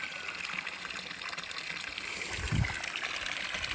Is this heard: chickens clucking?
no